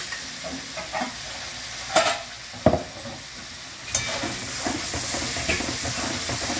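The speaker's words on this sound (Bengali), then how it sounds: "এটা খুব ভালো করে কষাতে হবে।" Fresh tomato paste sizzles in a pan while being stirred for a gravy, with a steady hissing fry punctuated by a few sharp scrapes and knocks of the spatula, close up and no talk.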